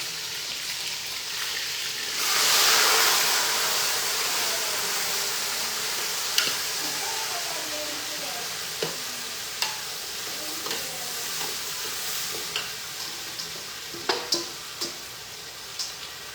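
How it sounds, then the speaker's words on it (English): Vegetables sizzle steadily in a hot pan, with a brief louder hiss early on and scattered clinks and scrapes of stirring throughout. "So the veggies are frying."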